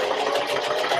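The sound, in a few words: sewing machine back stitching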